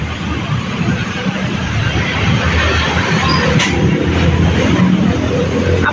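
A train rolling along rails in Indonesia, with a steady loud rumble of wheels and carriages filling the whole clip and faint bursts of brighter clatter from the wagons.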